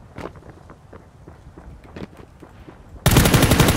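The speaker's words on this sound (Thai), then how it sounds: "เสียงปืนอยู่ด้านขวามือครับผม" Rapid bursts of video-game gunfire crackle from the right side, starting as scattered shots and ending in a loud, dense burst of continuous automatic fire.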